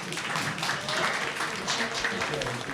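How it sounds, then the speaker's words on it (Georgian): A studio audience at a Georgian dating talk show claps and cheers, a dense, steady wash of applause that holds at an even loudness for a few seconds. "ტაში დაუგარეთ."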